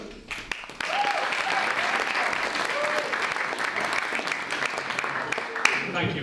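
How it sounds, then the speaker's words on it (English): Loud, sustained applause from a crowd at a young actor of the year competition, starting after a brief quieter moment and continuing steadily with some scattered speech mixed in. "But I appreciate the applause."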